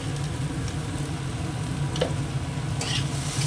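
Spices sautéed down (kosha) in a pan give a low, even sizzle with light stirring and a couple of brief scraping clicks, close and unbroken.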